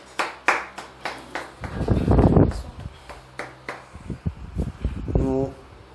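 Worshippers at a church service clap their hands together in a rhythmic burst of applause, moderately close, with voices heard around the clapping.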